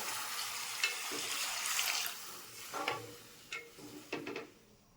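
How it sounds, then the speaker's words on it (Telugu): Filtered water from boiled chicken poured into hot oil in a pan: a soft sizzle with a few spurting, crackling bursts that fade toward the end, fairly quiet and without talk. "ఇప్పుడు ఇందులో మనం చికెన్ ఉడికించిన నీళ్ళండి మనం ఫిల్టర్ చేసుకొని ఇందులో వేసుకోవాలి."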